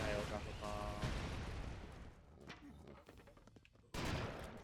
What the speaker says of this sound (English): You kind of hear the explosion happening.